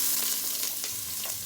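Onion and garlic sauté in a pan over medium heat, a steady close sizzle broken by a few soft stirring scrapes, with no talking.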